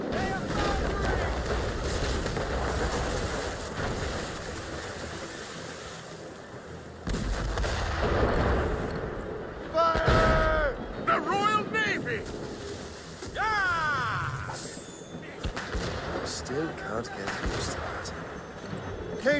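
Naval cannons boom from warships during a sea battle in Assassin's Creed Rogue, heavy repeated blasts amid wind, water and shouting crew voices.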